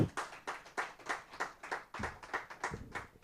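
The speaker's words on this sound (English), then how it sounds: "Please, a round of applause as she comes up." Audience applause at a corporate ESG day event: steady, rhythmic clapping from a modest crowd, fairly soft and even throughout, with no talk over it.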